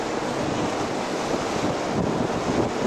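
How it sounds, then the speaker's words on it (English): Strong wind buffeting across a cruise ship deck in Alaska, a loud steady roar of gusts against the microphone mixed with a broad wash like sea surf. "very windy though."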